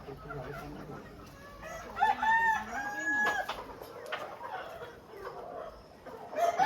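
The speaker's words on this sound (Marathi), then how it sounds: "पाच कोंबड्या खुडूक बसलेल्या आहेत" Free-range desi hens cluck and squawk in a busy coop, with a rooster-like call rising in the middle, moderately close over background noise.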